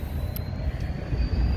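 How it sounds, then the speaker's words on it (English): GO commuter train passing at sunset on a hillside, a steady low rumble with rhythmic wheel clatter and a faint high whine, fairly close and continuous for the whole moment. "And look who we got here, the GO train."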